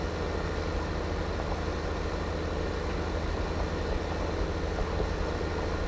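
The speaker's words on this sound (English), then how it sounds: "Gotta love this Smart Track tractor." The Smart Track tractor engine in Farming Simulator 15 drones steadily and loudly with a dense, constant rumble and no pauses or speech.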